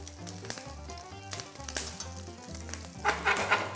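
Bacon strips sizzle while frying in a pan, a moderate crackling hiss under a tonal backing that grows brighter and louder toward the end.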